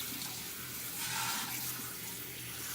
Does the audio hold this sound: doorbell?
no